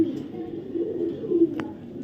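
A pair of very light-coloured racer pigeons coos softly and steadily nearby, a low continuous murmur with a brief sharper noise near the end.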